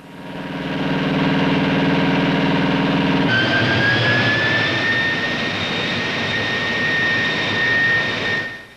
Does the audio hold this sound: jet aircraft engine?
yes